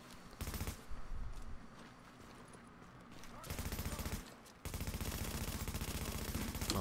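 Automatic gunfire in the video game The Division, fired in sustained rapid bursts with a short lull between them, moderately loud and close.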